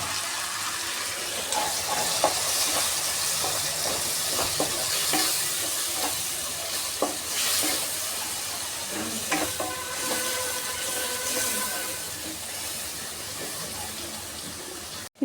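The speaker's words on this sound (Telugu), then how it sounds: "ఇప్పుడు ఉల్లిపాయ వేగింది కదండి, ఇందులో నేను సన్నగా తరిగి పెట్టుకున్న టమాటా వేసేస్తున్నాను." Chopped tomato hits fried onions in a pan for a soya and capsicum curry, giving a loud, continuous sizzle with stirring scrapes throughout.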